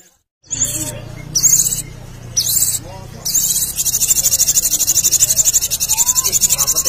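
A sogon songbird sings loud, bright repeated chirps and trills close up, starting in short bursts and then settling into a fast, rhythmic pulsing call with a low hum underneath.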